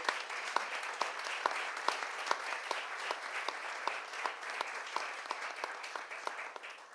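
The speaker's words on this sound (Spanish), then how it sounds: "Pido un fuerte aplauso que está aquí presente." A small audience claps for an author at an activist school event, individual hand claps clearly separated into a brisk, even rhythm, fairly quiet and close, sustained for several seconds without talk.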